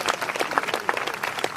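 A crowd applauds an honourable member at a gathering, a brief burst of close, rapid, uneven clapping from many hands.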